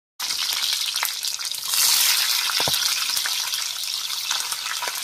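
Small onions dropped into hot oil set off a loud, dense frying hiss that starts abruptly and crackles on steadily, with a stronger surge early on.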